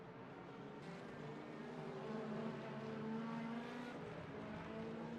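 Race car in the sim racing game Le Mans Ultimate at Spa-Francorchamps, its engine a faint but steady high-pitched whine with tones rising and falling as it pulls away after rejoining the track, alone without voices.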